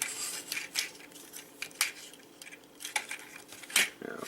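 A plastic Transformers Toxitron figure being transformed by hand, with a string of light plastic clicks, snaps and rattles at an irregular pace, close and fairly quiet, no talking.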